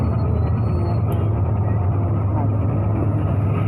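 Car driving along Marina Road in Davao City, heard from inside as a loud, steady low engine rumble with road noise, a voice briefly talking over it.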